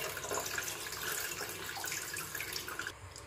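Soaking water drains from rice being prepared for idli batter, a steady continuous gush and patter of pouring water close by, running alone without pause for about three seconds before easing off at the end.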